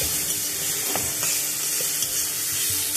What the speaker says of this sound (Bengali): এবার একটু ডুমুর, আলু আর মশলাগুলো একসাথে একটু ভালোভাবে কষিয়ে নেব।